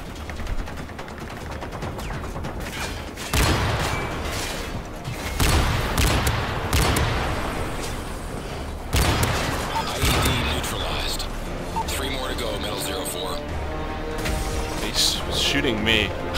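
Dense gunfire and bursts from Modern Warfare 3 Spec Ops, an unbroken run of gunshots and impacts that continues for the full length, with players talking over the shooting.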